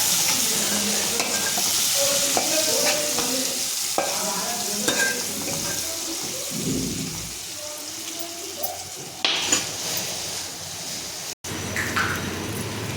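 Okra pieces sizzle steadily in hot oil with turmeric while a utensil stirs and scrapes the pan, a close, continuous frying hiss broken by clatter and knocks.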